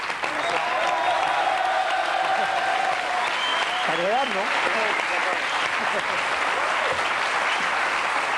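An audience applauds a boxing world champion with a continuous broad clapping roar. Voices talk over the applause and a tone sweeps briefly through the middle.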